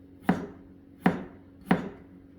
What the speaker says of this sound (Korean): 얇게 편 썬다는 거지